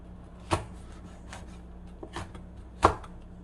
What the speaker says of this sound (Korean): 그래서 이렇게 같이 썰어서 넣어 주시면 돼요